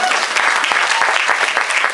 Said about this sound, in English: So let's give the parents a round of applause.